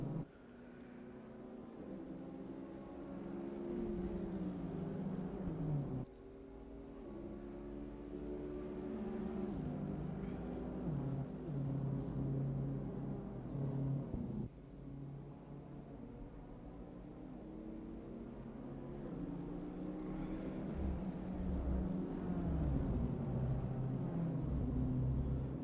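BMW race cars in Assetto Corsa Competizione at Monza: a continuous loud engine drone with layered tones that climb and drop in pitch through gear changes, running unbroken with no talk.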